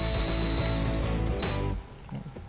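A power driver with a Torx bit whirs loose the handlebar control screws on a 2019 Harley-Davidson Road King, a close buzzing burst lasting under two seconds before stopping, followed by faint handling noises.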